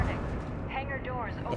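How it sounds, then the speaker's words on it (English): Rumbling explosions and booms from the MechWarrior 5 mech combat game, a steady low roar throughout, with voices talking over it. "I'm hearing explosions going on."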